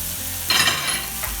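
Turmeric powder hits a hot, sizzling pan for a British curry house chicken korma, a close, steady fry with a brief burst of louder hissing and crackle midway, then settling back to a constant sizzle.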